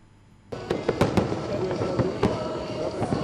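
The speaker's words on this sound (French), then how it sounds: "Le grand spectacle de feux d'artifice a démarré à minuit" Midnight fireworks over Abidjan suddenly burst into a dense barrage of booms and crackles, loud and continuous, with sharp bangs popping out of the din and voices of a large crowd in the background.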